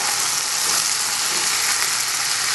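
Okra and potato frying in a pan with chili, salt and turmeric, a steady close sizzle with soft stirring scrapes underneath, continuous and fairly loud.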